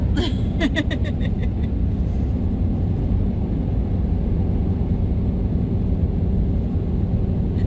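Steady low road rumble from a car interior during a long, uneventful drive, a broad continuous drone with a few brief ticks near the start and no one talking.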